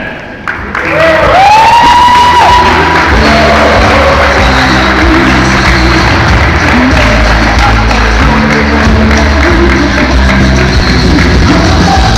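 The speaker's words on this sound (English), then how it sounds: "let's give a big round of applause to Mr. John Harrison!" Applause and cheering for a longsword fighter at a historical swordsmanship event: clapping swells after a brief quiet start, with a few shouts and whistles rising above a loud, steady crowd for several seconds.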